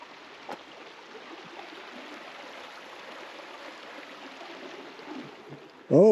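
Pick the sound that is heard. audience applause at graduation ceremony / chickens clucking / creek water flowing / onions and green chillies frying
creek water flowing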